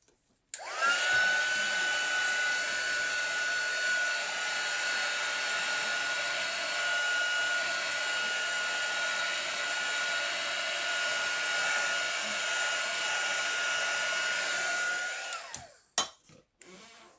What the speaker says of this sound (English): I'm going to give it a quick dry with my heat gun